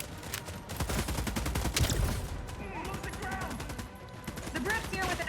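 Rapid point-defense cannon fire in The Expanse: Osiris Reborn, a steady stream of gunshots rattling through a busy battle scene, with voices and other combat noise mixed in.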